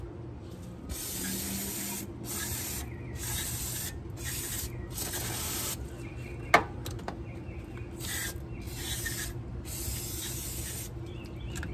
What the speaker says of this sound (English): Go ahead and spray the brake cleaner back up in here.